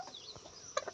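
A hen on a farm giving a few soft clucks over about a second, faint and close, with a slightly louder pair near the end.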